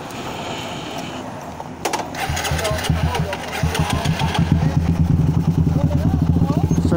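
A Raider 150 motorcycle engine starts with a brief crank, then idles and revs in rising bursts, loud and close, growing steadier and fuller toward the end, with people talking nearby.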